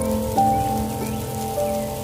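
Heavy rain pattering in a Hindi cartoon forest scene, a brief wash of falling drops blended with soft sustained musical tones.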